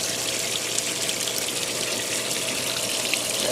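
Water pours steadily into a washing machine filling on the warm rinse option, a continuous broadband rushing gush at an even level throughout, with no talking over it.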